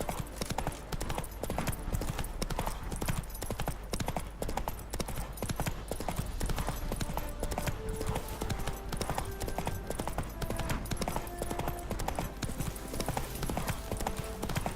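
In The Witcher 3, the horse Roach gallops with a rapid, steady clatter of hooves that runs loud and close throughout, over a low rumbling backdrop.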